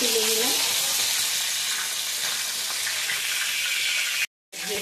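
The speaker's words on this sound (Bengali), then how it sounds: "এইভাবে গোলায় ডুবিয়ে চিংড়ি মাছগুলো ভেজে নিতে হবে।" Battered prawns fry in hot oil with a steady, close, loud crackling sizzle; a brief low tone sounds near the start, and near the end the sound cuts out completely for a moment before the frying returns.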